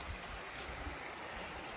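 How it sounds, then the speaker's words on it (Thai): A stream flows down over a weir near Sao Noi waterfall in Prachin Buri, Thailand, with a soft, steady, continuous rush of water, fairly faint and with no voices. "คือเป็น ลำธารที่ไหลลงมานี่แหละครับ"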